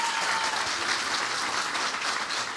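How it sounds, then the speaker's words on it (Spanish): Church congregation applauding new visitors during a service, a dense, steady wash of clapping filling the room at full strength without a break. "Pues a Eric y a Roberto vamos a darle un aplauso muy fuerte"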